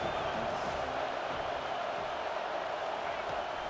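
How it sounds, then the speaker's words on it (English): Stadium crowd in an NCAA college football video game, Michigan at USC, a steady broad roar of many voices swelling on a third down, continuous and fairly loud with a commentator talking over it. "This crowd rising up, sensing that its defense needs some help."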